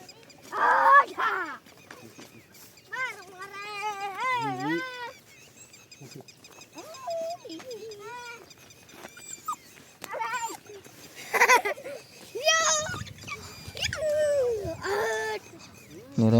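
Puppies on a farm beside a cumin field whimper and whine in repeated high, wavering cries, with some rustling and soft voices around them.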